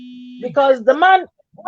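A medication reminder alarm sounds as a steady electronic tone for a moment before cutting off, followed by a person speaking up close.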